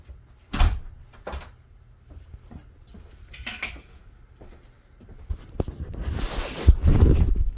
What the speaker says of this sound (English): Can I close my door?